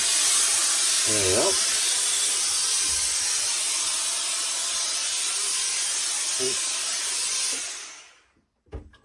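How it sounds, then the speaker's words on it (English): Loud continuous steam hiss blasting onto the felt of a Borsalino trilby hat, holding steady for about eight seconds before cutting off abruptly, with a brief voice and a few handling knocks near the start and end. "what I'm going to do now is introduce some steam"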